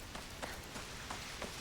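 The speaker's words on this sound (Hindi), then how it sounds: "और अभी तो खैर बारिश का ही मौसम हो रखा है।" Steady rain falls in the video game Silent Hill f, a dense even patter of drops on the ground with faint soft thumps and no voices.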